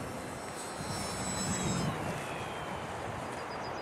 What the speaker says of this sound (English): This little engine on a heavy plane.